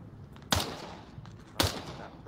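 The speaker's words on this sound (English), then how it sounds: "Why'd you shoot?" Two sharp, booming gunshots about a second apart in the VR shooter game Onward, each with a short rumbling tail over quieter background noise.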